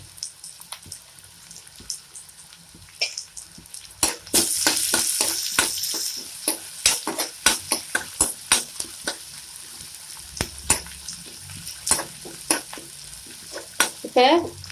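Small onions (shallots) sizzle and crackle in hot oil for mushroom sukka, with repeated sharp stirring scrapes and clicks from a utensil against the pan, close and steady.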